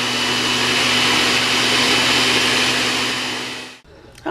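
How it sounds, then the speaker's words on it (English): A blender whirs at high speed, blending a parsley and spinach smoothie in a cup, a loud steady motor roar that winds down and stops near the end, with no talk over it. "we have our spinach in our thing and we're going to blend it down"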